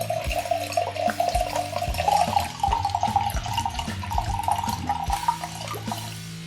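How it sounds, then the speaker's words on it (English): Vodka, a big inexpensive bottle, poured into a glass mason jar, about 300 millilitres per jar: a steady close liquid trickle and gurgle running the whole time, with small glassy clinks. "We're gonna put about 300 milliliters of vodka into each mason jar."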